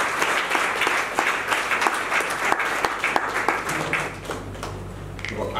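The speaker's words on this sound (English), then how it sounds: "give them a commensurate round of applause" Steady applause from an audience at a regional nurses and midwives award ceremony, dense sustained clapping filling the whole stretch at moderate loudness, with a faint voice entering near the end.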